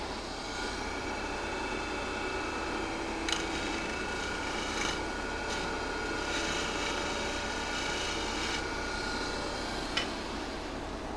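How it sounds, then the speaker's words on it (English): Cured CA glue being scraped off mesquite wood, a steady close rasping scrape with a few sharper ticks and strokes against an even background hum, and no one speaking. "More scraping here."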